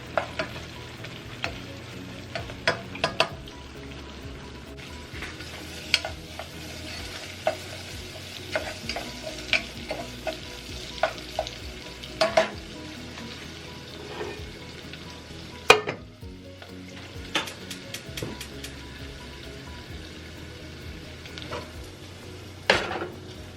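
Ham and onions fry in butter in a pan with a quiet, steady sizzle, broken by frequent clinks and scrapes of a utensil stirring against the pan, close up and without talk.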